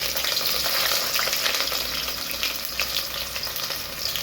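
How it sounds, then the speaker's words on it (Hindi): Onions hit hot oil for an egg gravy and fry with a loud, continuous close-up sizzle that eases slightly toward the end, with no voices. "अब ऑयल गर्म हो गया है, अब हम प्याज डालेंगे"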